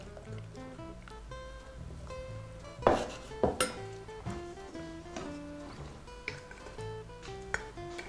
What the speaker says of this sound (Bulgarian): Отново разбърквам.